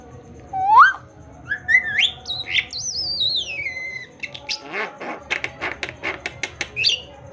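A hill myna whistles loud, clear rising and falling notes up close, then breaks into a quick series of rhythmic clicking, chattering calls; no talking over it.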